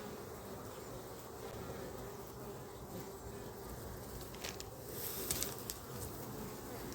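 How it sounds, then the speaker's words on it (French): Honeybees fan and buzz at the entrance of a colony in hot weather, making a soft, steady drone that sits low and distant, with a few faint brief clicks near the end. "on a des abeilles qui sont en train de ventiler"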